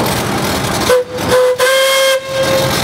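A steam traction engine's whistle at a steam threshers show in Darke County, sounding a sustained steady tone broken into a few blasts over roughly two seconds, loud and near amid background crowd noise.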